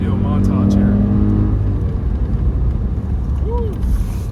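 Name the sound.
Audi S8 Plus engine revving while driving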